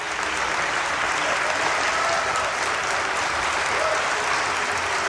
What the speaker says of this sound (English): All of these people that's sitting there right now that is applauding